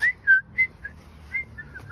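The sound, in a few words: person whistling imitating a bird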